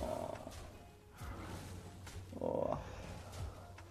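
A cartoonish frog croaks several times in a hero-based video game, the short throaty calls rising over a steady low game hum, with one louder croak near the end.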